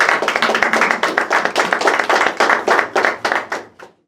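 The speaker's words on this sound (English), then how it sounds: "Let's give them a round of applause." An audience at a community meetup claps in a steady, fast burst of applause that runs for about four seconds, loud and close, then stops abruptly.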